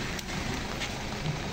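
Steady rain falls in Jaffna during heavy continuous downpour, a dense even hiss of drops on surfaces close by with no voices.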